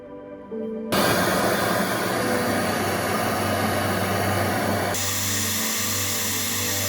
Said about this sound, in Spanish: Soldamos por aquí.